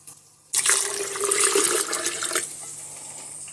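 Water from a tap gushes into and rinses an empty tomato can, starting abruptly and splashing loudly for about two seconds before easing to a quieter trickle.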